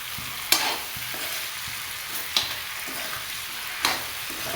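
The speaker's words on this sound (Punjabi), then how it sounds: "ਤੇ ਆਪਾਂ ਇੱਕ ਤੋਂ 2 ਮਿੰਟ ਤੱਕ ਆਪਾਂ ਇਸੇ ਤਰ੍ਹਾਂ ਇਹਨੂੰ ਫਰਾਈ ਕਰਾਂਗੇ" Mixed vegetables with potatoes and tomatoes fry in a pan with a steady, close sizzle. Three sharp spoon scrapes and stirs cut through it at roughly even intervals.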